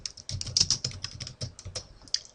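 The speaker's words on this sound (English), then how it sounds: "you can type them in here" Close, brisk typing on a computer keyboard, a quick run of crisp key clicks in an uneven rhythm with short pauses, heard alone.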